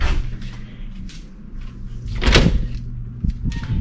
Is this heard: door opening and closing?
yes